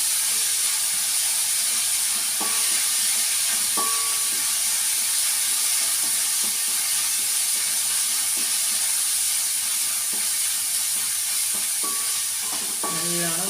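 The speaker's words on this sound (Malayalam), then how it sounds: "ഇതൊന്നും വഴന്ന് വന്നോട്ടെ." Vegetables for an ivy gourd curry sautéing in a pan, with a steady, loud, close sizzle and hiss throughout and occasional light scrapes and clinks of stirring.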